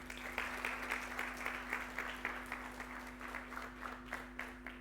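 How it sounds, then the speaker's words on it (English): Crowd applause for Storebrand at a sustainability demo day: quiet, distant clapping from an audience in a hall, steady with soft pulses, over a constant electrical hum. "Big applause to Storebrand"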